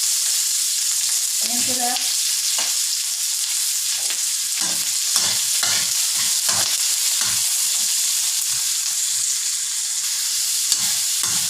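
Garlic frying and being stirred in a pan for a sweet and sour sauce, a steady close sizzle broken by repeated scraping stirs, with a brief spoken remark near the start.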